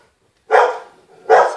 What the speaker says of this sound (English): I'm so sorry about her barking.